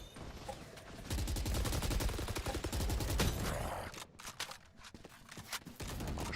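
Rifle gunfire in Valorant during a competitive esports match on the Haven map: rapid bursts of sharp, closely spaced shots that rattle loudly for several seconds, then thin out into scattered isolated cracks.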